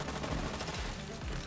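Gunfire in the shooter video game Borderlands 3 comes as a dense, continuous burst of rapid shots with low thumping impacts, steady and fairly loud.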